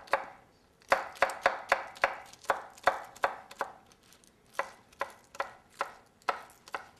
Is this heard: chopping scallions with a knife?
yes